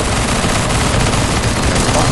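Dense, continuous automatic gunfire rattles in a CS:GO zombie escape match, loud and relentless with overlapping shots, a voice faintly mixed in.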